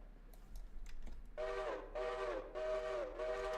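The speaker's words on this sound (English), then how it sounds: "I don't know why I just blew the whistle that many times" Steam train whistle in the Minecraft Create mod, blown four times in quick succession, each a sustained tonal blast with short gaps, after faint clicking, fairly quiet in the mix.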